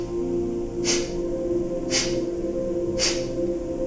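Three sharp, forceful nasal exhales in yoga breath-of-fire style, evenly spaced about a second apart, close and clear over a steady low background hum.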